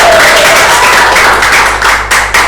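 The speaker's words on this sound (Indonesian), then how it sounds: "Boleh kasih tepuk tangan?" An audience at a live talk show event claps in a brief burst of dense, steady applause close by for a couple of seconds, fading slightly at the end.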